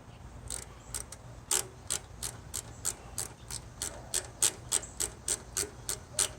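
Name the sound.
socket ratchet wrench working on Murray lawn tractor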